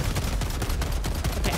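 Rapid, continuous gunfire fills a chaotic Helldivers battle, a dense rattling stream of shots at steady high volume.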